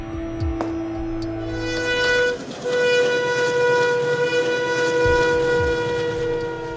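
A train runs along a railway track beside a river near a police station area, making a sustained loud mechanical rumble with a long tonal horn or whistle drone over it and a few sharp clunks.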